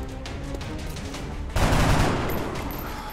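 Soldiers open fire in the video game XCOM: after a quieter stretch, a sudden loud burst of rapid gunfire erupts and then slowly fades.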